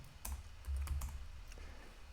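Computer keyboard keys tapped while entering a Linux command, a quick cluster of close, light clicks followed by a pause and a few more scattered keystrokes, quiet and alone.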